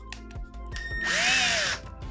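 A Milwaukee M12 3/8-inch drill driver bores into wood in one close, steady whine lasting under a second, bracketed by short clicks and handling knocks.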